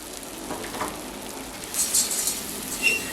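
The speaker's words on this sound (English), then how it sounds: "I usually prefer to toast the oats a bit in butter" Oats toasting in butter in a pan give a soft, steady sizzle and crackle close by, swelling slightly toward the end, with no voices.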